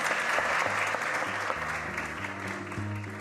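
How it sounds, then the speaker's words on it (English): A round of applause from a gathered audience, continuous clapping at an even level, with a soft sustained musical tone underneath. "would you all please give a round of applause for our much appreciated Greg?"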